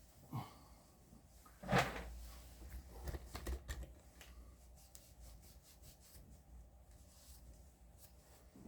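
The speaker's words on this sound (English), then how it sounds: "Now that wax is melted in there really thoroughly, and I ground it in with my hand while it was still wet" Rag rubbing wax into the tenon cork of an Artley 17S clarinet, a soft scuffing and rasping with several short bursts and one louder scrape early on, then quieter intermittent strokes, close and fairly faint.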